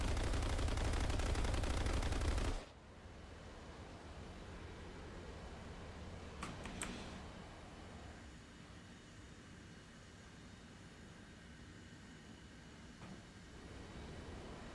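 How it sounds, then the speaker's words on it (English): An aircraft's cannons fire a continuous loud, rough burst of about two and a half seconds in the IXWA Strike video game, then cut off into a quiet, steady background drone. "the cannons on this thing sound like a fart sound"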